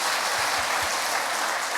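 A church congregation claps during a Friday worship service, a dense, even wash of applause holding steady at full loudness for the whole stretch.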